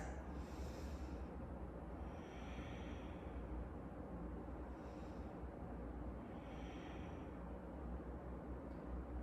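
Slow, deep breaths during a gentle yoga pose, with soft airy inhales and exhales spaced a couple of seconds apart, faint and close over a steady background hum, without speech.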